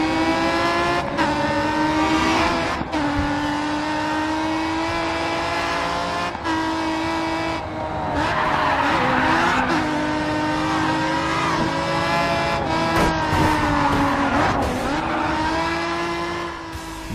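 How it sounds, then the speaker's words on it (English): Race cars in the Grid 2 racing game roar at high revs, the engine pitch climbing and dropping through gear shifts, with tire squeal during hard cornering and a continuous dense mix throughout, no speech. "the immersive soundscape of roaring engines and squealing tires"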